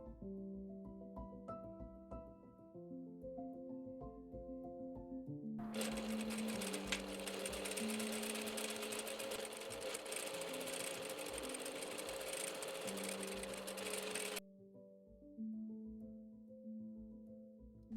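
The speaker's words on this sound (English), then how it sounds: "I'm top stitching the bias binding close to the edge up to the strap marks." A sewing machine top-stitches bias binding near the edge of a dress, running in one steady, close, continuous whir for about nine seconds, with quieter tonal background sounds before and after and no talking.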